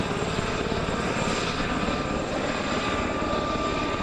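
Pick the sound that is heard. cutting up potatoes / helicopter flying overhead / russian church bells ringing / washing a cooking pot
helicopter flying overhead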